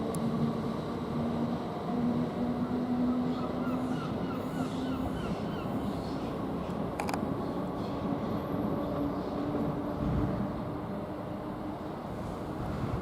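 A British Rail Class 321 electric train rumbles steadily at Chelmsford station, a continuous mid-distance drone with a faint tonal hum and crows cawing in the background.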